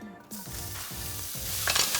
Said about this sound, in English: I'm gonna put this right into the heat